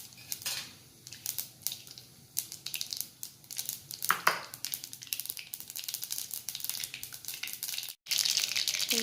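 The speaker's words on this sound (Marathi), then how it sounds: "आता जिरे मोहरी घालत आहे मी." Cumin and mustard seeds crackle and pop in hot oil, a dense stream of close, sharp spluttering bursts that keeps going throughout, briefly cut off before a louder sizzle surges back.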